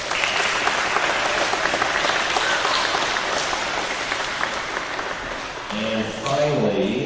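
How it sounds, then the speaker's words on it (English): An audience of students and parents at a school gathering claps in a sustained, dense round of applause that fades slightly before a voice speaks briefly near the end. "So give them a big round of applause."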